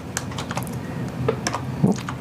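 Rapid typing on a computer keyboard in a quiet room, a steady patter of close, crisp key clicks with a few louder strokes toward the end.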